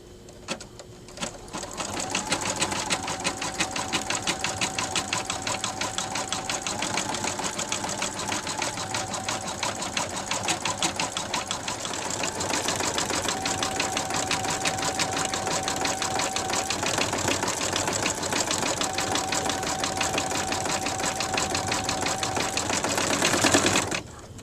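An embroidery sewing machine stitches a coin purse held in the hoop, its steady rapid needle chatter running continuously and loud throughout with no talk.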